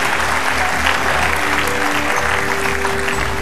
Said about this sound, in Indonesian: Ini kita kasihkan tepuk tangan sambutan sekali lagi.